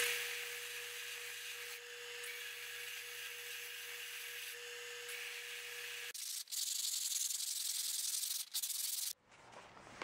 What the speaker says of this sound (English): I'm gonna use the sander on a few of these other edges though to smooth these out.